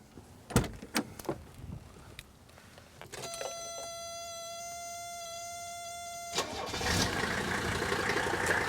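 A 1983 turbo diesel engine cranks with a whining starter, catches with a rough burst, then settles into a steady, fairly loud idle, preceded by a few clunks and knocks.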